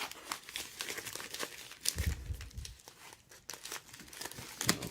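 A knife slices open a cardboard wristwatch box, giving crinkling, tearing cuts in short bursts with a heavier thump partway through, close and fairly loud.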